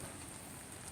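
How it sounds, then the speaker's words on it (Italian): Steady rain during stormy weather in an Italian town patters softly and evenly on surfaces, a faint continuous hiss with no voices. "e piove ancora"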